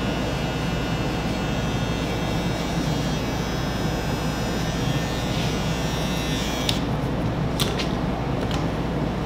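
Electric hair clippers buzz steadily and close up throughout a bald fade haircut, a continuous droning hum with a few faint clicks near the end.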